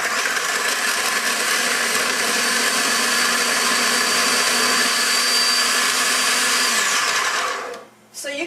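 A food processor whirs loud and steady as it cuts flour, salt and butter into a crumbly pie crust mixture, a continuous motor roar that winds down and stops near the end.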